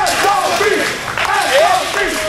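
Arena crowd at a tag-team title wrestling match, cheering and chanting loudly throughout, with a commentator talking over the noise.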